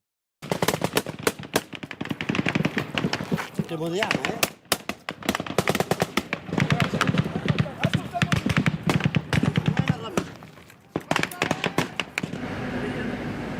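Bursts of AK-47 gunfire crack through a street fight, dense rapid volleys and single sharp shots in loud, uneven clusters with brief lulls, while people shout and talk over the shooting.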